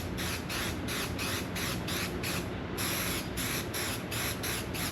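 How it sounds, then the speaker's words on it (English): An aerosol can sprays in a rapid series of short hissing bursts, close and steady, with one longer continuous spray in the middle. "Spray it."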